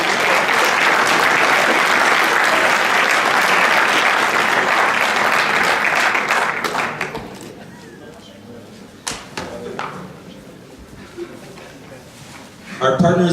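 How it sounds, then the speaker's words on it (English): Audience at the LauzHack 2017 hackathon closing ceremony applauding the winners, loud sustained clapping for about seven seconds that fades into scattered claps and a murmur of voices, then swells briefly again at the end. "Let's give a round of applause for the winners."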